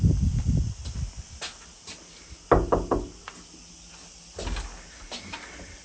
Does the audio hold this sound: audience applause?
no